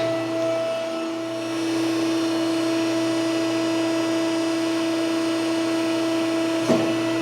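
A tube bender retracting its clamp die and zeroing its spindle gives off a steady mechanical hum with a constant tonal whine, running evenly throughout, with one brief knock near the end.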